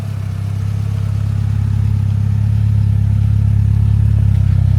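A Honda Integra Type R tuned to 550 hp drives along with a loud, steady engine drone that builds gradually in level, with no talking.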